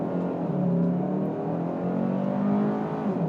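A Hyundai Sonata N Line front-wheel-drive sports sedan accelerating hard, a steady loud engine drone heard from inside the cabin with rising harmonic tones through the pull, no talk.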